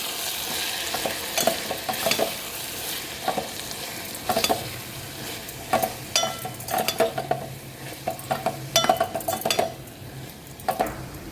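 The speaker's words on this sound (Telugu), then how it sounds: "వెల్లుల్లి కారం, పప్పుల పొడి అన్నీ వేసుకొని బాగా కలుపుకోవాలి." A spoon stirs garlic chili powder, lentil powder and green chilies into an eggplant and chana dal curry in a pan, with repeated close scraping strokes against the metal and a soft sizzle underneath, no talking.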